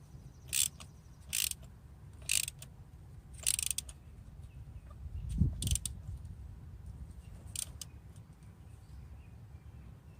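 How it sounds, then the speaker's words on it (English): Ratchet tightening a spark plug on a 2008 Dodge Caliber, giving several short bursts of quick clicking spaced a second or so apart, close and crisp against a quiet background, with a soft thud midway. "Let's go ahead and grab the ratchet now."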